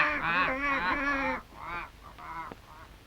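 A flock of large cartoon birds honks loudly and nasally in a quick burst of overlapping calls, then a few shorter, fainter honks follow, with no talking.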